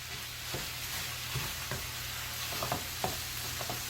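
Egg fried rice with oyster sauce sizzles steadily in a hot pan while a spatula stirs and scrapes, with soft clinks and clatters breaking through the continuous frying hiss; no one speaks.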